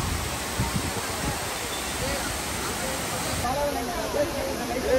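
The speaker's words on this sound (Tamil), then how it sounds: "ஃபால்ஸ் அங்கே மேலே இருந்து வந்துட்டே இருக்கு பாருங்க" Silver Falls, a waterfall in Kodaikanal, pours down from above with a steady, loud broadband rush of water that holds constant throughout.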